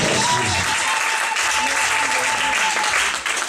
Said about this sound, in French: Quelqu'un peut acclamer pour le Seigneur.